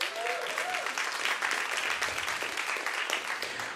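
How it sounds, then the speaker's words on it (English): Church congregation clapping in celebration during a service, a brief, full round of many hands applauding together at moderate volume, with a faint tonal sound at the start. "You guys celebrate that real quick with a clap."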